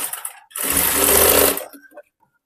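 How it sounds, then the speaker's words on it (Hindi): A sewing machine stitches a hook strip onto a boat neck princess cut blouse, running in one steady, close whirring burst of about a second, framed by soft clicks and handling noises before and after. "जो पट्टी है उधर एक सिलाई लगा दी हूँ पट्टी की तरफ"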